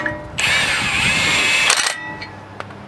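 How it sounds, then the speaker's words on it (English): A power tool runs a single lug nut down onto a brake rotor, a loud whirring burst of about one and a half seconds ending in a rattling clatter, followed by a couple of faint clicks. "we're just going to put one lug nut on. And we're just going to run it down."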